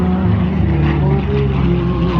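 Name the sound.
P-40 Warhawk Allison engine at airshow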